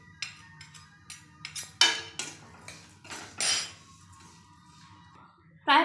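A spoon scrapes and clinks against a pan while grated coconut is stirred during cooking, a series of irregular metallic knocks and scrapes at close range with brief pauses between strokes.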